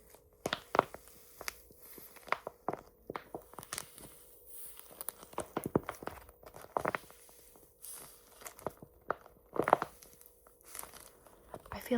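Repeated crinkly paper crunching and crackling as something soft is squeezed, in irregular bursts close to the microphone, with quiet pauses between.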